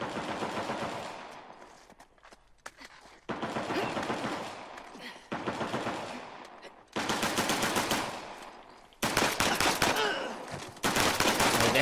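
Automatic gunfire in Uncharted: The Lost Legacy comes in several loud bursts of rapid shots separated by brief pauses, each burst sharp and close and fading slightly at its end.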